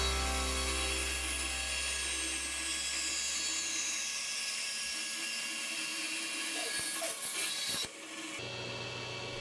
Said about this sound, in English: Next I will make a cut along the line with the bandsaw to meet the hole that I just drilled.